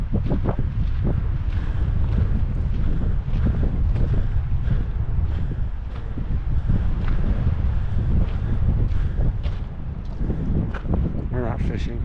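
Gusty wind buffeting the microphone on the cold, high Lawn Lake Trail in Rocky Mountain National Park, a loud continuous low rumble that swells and eases, with a person speaking underneath.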